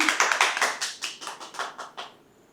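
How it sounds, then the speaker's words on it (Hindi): A small group of people claps along at a channel milestone cake-cutting celebration, about a dozen uneven, close bursts that quickly fade out. "ताली बजाओ।"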